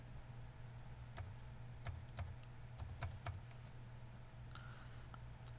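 Keys tapped on a computer keyboard while entering values into an Excel spreadsheet, scattered sharp clicks in small irregular bursts over a low steady hum, faint and with no voices.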